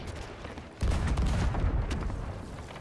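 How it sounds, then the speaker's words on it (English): Cannon fire aimed at a boat in the pirate video game Sea of Thieves, a sudden heavy boom partway in followed by sustained rumbling blasts and crackling impacts, loud and close. "They're sailing around the island shooting cannons at our boat."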